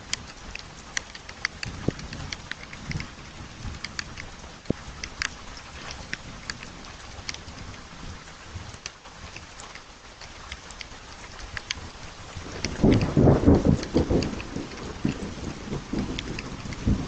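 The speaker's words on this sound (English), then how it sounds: "after extreme heat and water evaporating, a big thunderstorm comes" Steady rain patters with sharp drips and crackles throughout, and a deep rumble of thunder rolls in near the end before fading back to rainfall.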